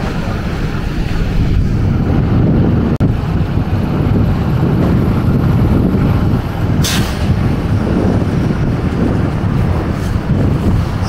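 Steady strong wind roars and buffets the microphone on a snowy night street on Bloor Street West in Toronto, a continuous loud rushing with one brief hiss partway through.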